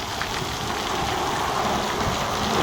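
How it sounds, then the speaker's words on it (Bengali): Dense, steady patter of motor-pumped water spraying onto a tin roof, sounding like heavy rain drumming, continuous and close with no pauses. "পানি মোটর দিয়ে কিন্তু পানি মারা হচ্ছে টিনের চালে"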